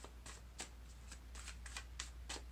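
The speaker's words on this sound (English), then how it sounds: "I'm just shuffling up the cards here for you" A deck of tarot cards is shuffled in a quiet room, giving a series of soft, close, papery riffles and slides at a steady rhythm over a low, constant hum.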